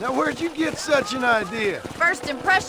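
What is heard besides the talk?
None of the usual background noises is heard.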